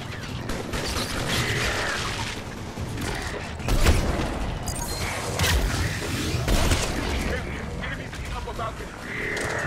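Gunfire and crashing impacts from the video game Mass Effect 3 crackle in dense, irregular bursts through a busy battle mix, with a louder boom near the middle.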